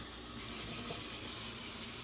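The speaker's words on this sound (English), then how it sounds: "I'm going to come back and get a little bit more water." Water runs steadily from a kitchen tap into a container while yogurt is being made, a continuous close, even splashing flow with no pauses.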